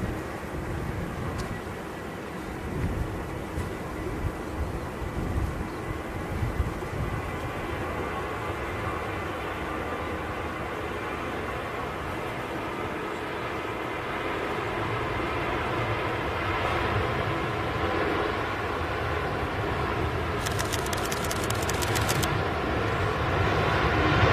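A SunExpress airliner takes off at Manchester Airport, its jet engines a broad sustained roar that slowly swells and holds at a distance, with no voices.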